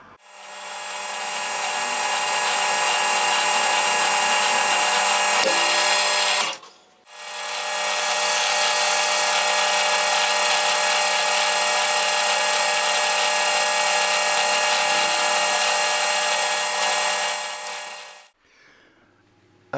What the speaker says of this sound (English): So all that remains now is to drill and tap M4.